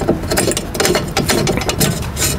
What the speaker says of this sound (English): screw the nut down